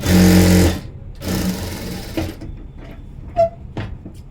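A sewing machine stitches a thin blouse knot rope in two loud, close, rapid bursts of rattling needle motion, followed by quieter handling clicks and faint movement.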